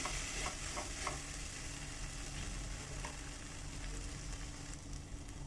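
Potatoes and spices fry in a pan while being stirred, a steady low sizzle broken by scattered scraping clicks of the spoon, close and fairly quiet.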